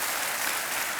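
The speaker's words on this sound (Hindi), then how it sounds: "एकदम ताली बजा दीजिए हमारे ज्ञान को।" A KBC game show studio audience claps in a dense, steady burst of applause, evenly loud and filling the whole moment without a break.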